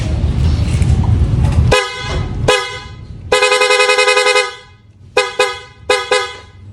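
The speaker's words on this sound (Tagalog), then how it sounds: "Testingin natin yung kinabit natin sa kanya na Pia horn original." A loud aftermarket motorcycle horn on a Raider 150 carb honks several times close up: two long blasts, then three short quick toots, over a rumbling background noise at the start.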